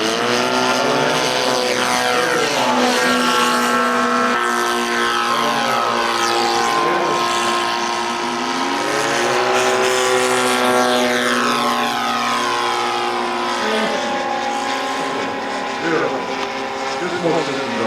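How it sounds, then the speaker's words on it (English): Propeller airplanes taking off, a loud, close engine drone with shifting pitch that sweeps up and down as aircraft pass, continuous throughout, with people faintly talking beneath. "The lead pilot is taking off."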